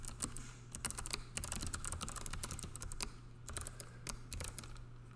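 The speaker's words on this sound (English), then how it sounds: "I'm going to type it out this time just for kicks." Rapid clicking of computer keys typed in quick irregular bursts, close and fairly quiet over a steady low electrical hum, with no talking.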